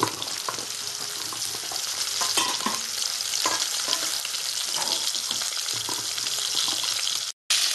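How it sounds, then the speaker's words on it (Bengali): Pieces of rohu fish frying in hot oil give a steady, moderately loud sizzle with occasional stirring scrapes and liquid bubbling, uninterrupted except for a brief dropout near the end. "মাছটা আমি ভালো করে ভেজে নেব।"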